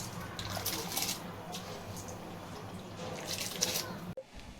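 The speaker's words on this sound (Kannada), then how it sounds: "ನೀರು ಕುದೀತಾ ಇದೆ, ಇದಕ್ಕೀಗ ಅಕ್ಕಿ ಹಾಕ್ತಾ ಇದ್ದೇನೆ." Rice being tipped into a pot of boiling water while cooking dum biryani, heard as a steady rushing, bubbling watery wash that stops abruptly just before the end.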